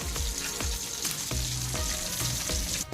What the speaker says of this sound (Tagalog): Ito na po ang ating unang batch na fried chicken.